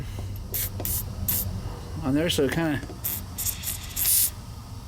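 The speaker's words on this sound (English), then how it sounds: "So what we're going to do is we're going to spray a little bit" Penetrating lube, similar to PB Blaster, is sprayed onto a broken bolt in a motorcycle workshop: a series of short, loud, close aerosol hisses, with someone talking in between.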